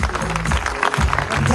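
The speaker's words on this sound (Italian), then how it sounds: "non possiamo che fare altro che fare un grande applauso ad Angelo Iannelli." Audience at the Theatralia theatre festival in Visciano applauding an actor, a brief burst of loud clapping blended with crowd noise and voices.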